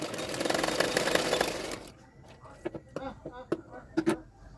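A sewing machine runs steadily for about two seconds while stitching the joined cups of a blouse with a half-inch margin. It stops, and a series of short thumps and fabric-handling knocks follows.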